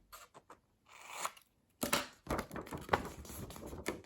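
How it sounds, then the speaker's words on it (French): Scissors snip through fabric being cut for a tote bag: a few light clicks, a pause, then a longer run of close crunching cuts. "On va venir ensuite faire la découpe ici, comme ceci."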